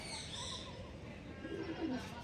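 Andhra pigeons coo softly amid a low, noisy background, with a brief, faint, throaty call toward the end.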